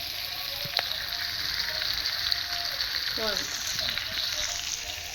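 Vegetables frying with salt and masala mixed in give a steady, close sizzle with a soft stirring scrape partway through, and no talk over it.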